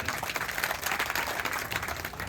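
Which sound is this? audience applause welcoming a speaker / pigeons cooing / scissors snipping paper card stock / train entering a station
audience applause welcoming a speaker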